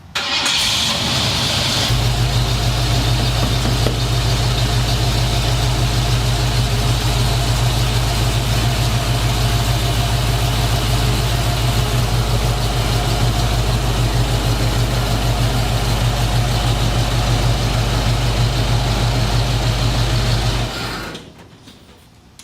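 A Ford Bronco engine cranks and catches, then settles into a loud, steady idle with a constant low hum that runs on before cutting off near the end.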